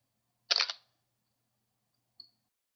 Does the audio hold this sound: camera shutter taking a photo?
yes